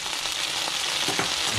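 Beef strips sizzle steadily in a hot pan for a stir fry, a bright continuous crackle with a few brief stirring scrapes, close and with no talking.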